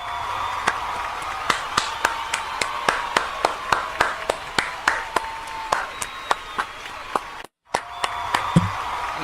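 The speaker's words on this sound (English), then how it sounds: "they're clapping for you" Scattered single hand claps ring out in a loose, fairly even rhythm over a steady background hum, close and sharp, with no talking.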